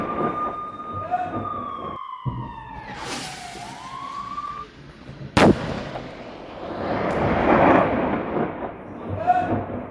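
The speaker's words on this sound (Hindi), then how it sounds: "इजरायली सेना ने यहां तोप से बरसाए गोले" A sharp, loud artillery blast cracks out amid whistling incoming shells, sirens and a low rumbling din in Gaza, with a voice speaking underneath.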